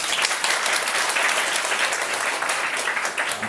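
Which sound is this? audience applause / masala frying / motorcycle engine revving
audience applause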